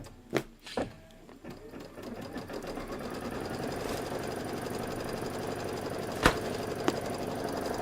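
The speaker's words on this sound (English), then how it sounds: "let's start stitching. We're going to do our placement line first" An embroidery machine stitches a placement line in yellow thread, a continuous rapid mechanical chatter building after a few sharp clicks and running steadily close by, with a couple of brief clacks near the end.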